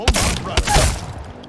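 Two quick, punchy blasts of an EVA-8 shotgun in the game Apex Legends, booming one after the other about half a second apart, near and loud.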